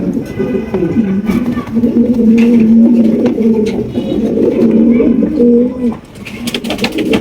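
Fancy racer bondinet pigeons at a bird sale coo steadily and loudly close by, their overlapping throaty calls running almost without pause.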